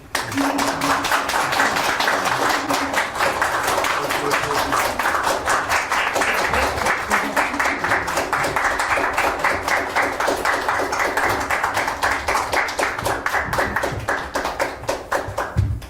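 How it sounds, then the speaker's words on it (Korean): Sustained applause from an audience at a Korean seminar and book concert in a library, dense steady clapping filling the room for the full stretch, without talk over it. "좌승희 원장님 큰 박수로."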